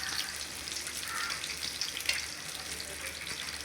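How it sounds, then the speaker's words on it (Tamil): Sardines shallow-frying in oil in a pan give a soft, steady sizzling hiss that stays faint and continuous with no talking. "ஒரு சைடு வந்து இன்னொரு சைடு திருப்பி போட்டு நல்லா நம்ம வறுத்துக்கலாங்க."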